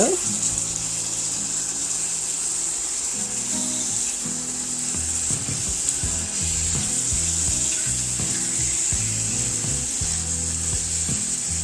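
Chopped medium onion browning in a hot pan, a steady broad sizzle and crackle running the whole time with low clattering and scraping underneath as it cooks for a ranch hamburger and potato casserole.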